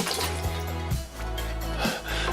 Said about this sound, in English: take the lemon, we're going to drop it in the water